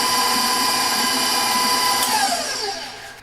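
An electric mixer beats thick gooey butter cake batter made from scratch, a steady close whirring drone that slows and winds down near the end.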